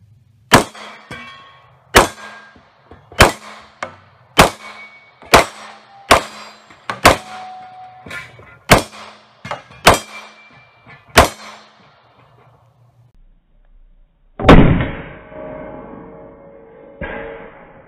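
Ten or so steady, loud shots from a Springfield XD Compact .45 pistol firing 230-grain reloads, each followed by a ringing clang from steel targets, spaced about a second apart, then a pause and a duller, rumbling impact burst near the end.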